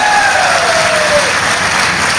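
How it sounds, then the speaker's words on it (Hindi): An audience at a Hindi poetry gathering (kavi sammelan) in Bhilai claps steadily and loudly, a dense wash of applause filling the whole short stretch. "अगर आप ताली बजाकर मुझे अनुमति दे दे"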